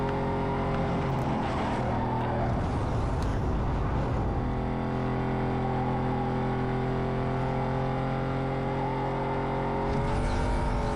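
A racing car's engine in the video game Need for Speed Most Wanted (2005) drones loud and steady, its pitch rising and falling slightly as the car accelerates through a race, with no talk.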